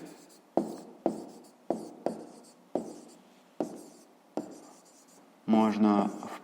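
A digit is written by hand in a series of about eight short, distinct strokes, evenly spaced and close, followed by a brief spoken voice at the end.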